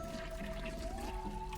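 A toilet flushes in the video game West of Loathing, a quiet, continuous watery rush and gurgle with a faint steady tone underneath, heard alone without speech.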